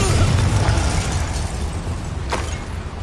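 A Confringo blasting spell goes off in Hogwarts Legacy: one loud, close explosive burst that trails into a rumbling, hissing wash of combat noise for about three seconds.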